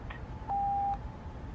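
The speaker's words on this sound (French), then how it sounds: "Veuillez laisser votre message après le bip." A single voicemail beep, one clear steady electronic tone lasting about half a second, faint and alone against quiet background hiss.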